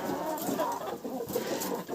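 A crested adult rooster clucks and calls in a farmyard, a continuous run of close, moderately loud fowl vocalizations with no talking.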